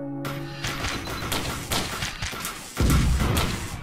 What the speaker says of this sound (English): Was that a panic mine, or was that just randomly explosions?